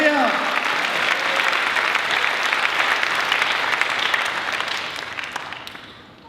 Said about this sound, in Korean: 다시 한번 주님께 영광과 사랑의 박수 올려드리도록 하겠습니다.